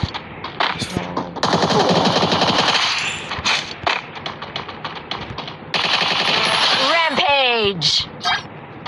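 Rapid bursts of automatic gunfire in a battle royale video game's ranked match rattle loudly in quick succession, broken by short pauses, with a person talking in between.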